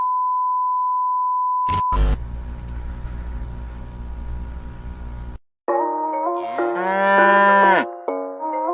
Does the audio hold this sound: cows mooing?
yes